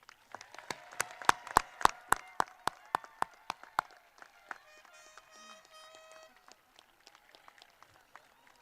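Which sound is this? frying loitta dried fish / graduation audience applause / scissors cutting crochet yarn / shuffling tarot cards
graduation audience applause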